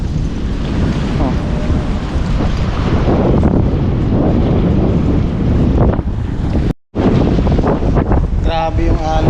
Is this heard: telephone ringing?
no